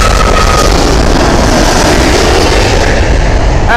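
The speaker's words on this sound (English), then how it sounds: "next flight inbound is British Airways. It's 777 here, going through the sky and the breeze." A British Airways Boeing 777 on approach to Heathrow passes overhead as a loud, broad roar of engine noise and rushing air that fills the short stretch with no voices.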